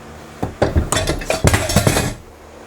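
A wooden bar stool drops onto the floor with a sharp clatter, followed by a quick run of knocking, rattling bounces that settle within about two seconds.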